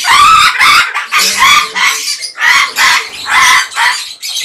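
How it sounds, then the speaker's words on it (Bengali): An African grey parrot, a one-year-old female, gives a run of loud, harsh squawking calls in bursts close by, with no talking alongside. "এই বন্ধু আমাদের আফ্রিকান গ্রে"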